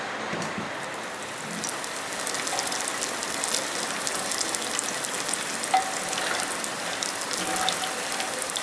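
Oil sizzling steadily in a mud pot while black masoor dal cooks, a dense, even crackle like light rain, close and fairly constant, with a small sharp pop partway through.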